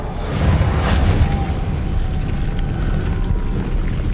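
In a Harry Potter-style video game, casting the Reparo repair spell brings a deep rumbling whoosh with a low boom near the start, then a sustained magical drone that slowly fades.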